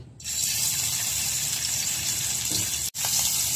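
Turmeric- and salt-coated fish frying in hot oil gives a steady, loud, hissing sizzle that starts abruptly and holds, with one brief dropout near the end.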